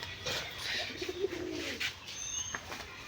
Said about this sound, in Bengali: এই যে পায়রাটা এসে দাঁড়ালো